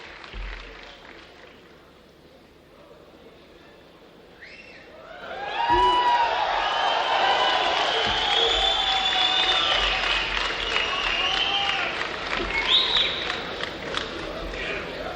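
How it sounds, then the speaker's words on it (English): Soldiers in a room rise to their feet clapping and cheering, a broad steady wash of applause swelling in after a quieter start and holding loud, with whoops and shouts rising over it. "every soldier in the room is on their feet. Bar none. Clapping, cheering, smiling."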